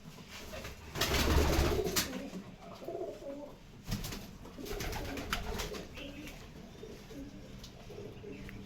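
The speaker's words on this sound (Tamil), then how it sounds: "ஒரு எத்தனை புறா இருக்குன்னு பாருங்க." Pigeons coo in a garden, soft low throaty calls repeated at intervals, fairly close, over a faint outdoor background with a few rustles and bumps.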